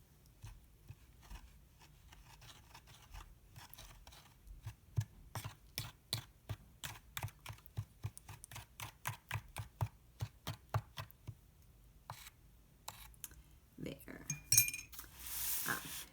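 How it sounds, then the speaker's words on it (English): A utensil stirring homemade watercolor paint in a small container: a rapid, steady run of close, light clinks and taps that speeds up and then fades out, with faint rustling at the end. "Give it a quick stir."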